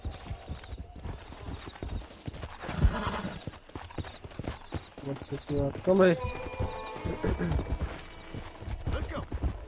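Horse in Red Dead Redemption: clip-clop hoofbeats with a loud whinny around the middle, set among game ambience, with someone talking over it.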